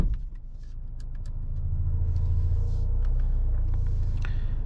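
A Mercedes-AMG A35 driving, heard from inside as a steady low engine and road rumble that swells slightly and holds, with a few faint clicks and rattles in the cabin.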